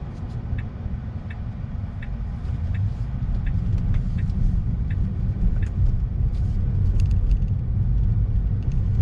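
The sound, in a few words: Tesla driving in road traffic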